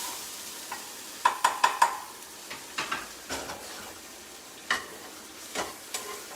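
Food seasoned with salt and black pepper is mixed in a pan, with a string of quick metallic taps and scrapes over a soft sizzle. The strokes come in short clusters and nobody talks.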